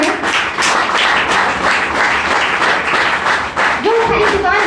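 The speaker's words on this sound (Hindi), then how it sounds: "एक उसके लिए ताली हो जाए" Applause from a seated audience at a marketing-plan seminar, a dense steady patter of many hands clapping throughout, with a few voices and a brief vocal tone near the end.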